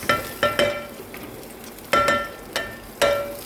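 Carrot and garlic frying in a pan, with a few sharp scraping stir strokes of a utensil against the pan over a faint sizzle, close and moderately loud, no voices.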